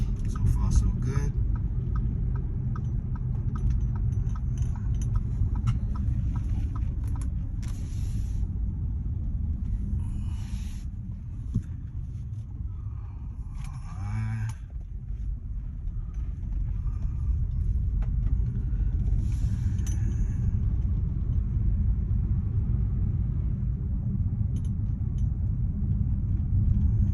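A repaired pickup truck driving on the road gives a steady low engine rumble and road noise throughout, with a person talking quietly now and then over it.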